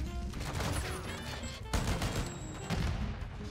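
A fully automatic MX Guardian shotgun in Call of Duty: Modern Warfare II, firing in rapid sustained bursts: dense, booming, loud blasts rolling together, with a short break before the firing resumes.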